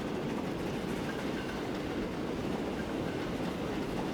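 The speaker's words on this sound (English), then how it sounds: "that train is continuing on. It is slowing down because it is braking for that signal" Train rolling and slowing as it brakes for a signal in Transport Fever 2, a steady broadband rumble with a faint clatter, continuous and even in level throughout.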